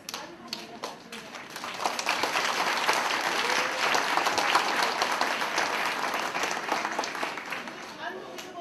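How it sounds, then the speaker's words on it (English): A school assembly audience claps for a class of eight- and nine-year-old students, starting with a few scattered claps before swelling into full, sustained applause that fills the room and tapers slightly at the end. "I also want to give Mrs. Erknick's class another round of applause."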